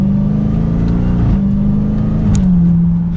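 A 2022 Dodge Charger SRT Hellcat Widebody pulls hard under acceleration in manual mode, its loud, deep exhaust drone rising and briefly dipping at two quick gear shifts, heard close from inside the car.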